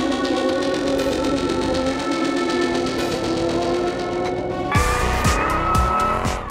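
A Ford Mustang drives with a steady, loud engine roar, then its tires squeal and skid in several sharp bursts near the end, with no talking.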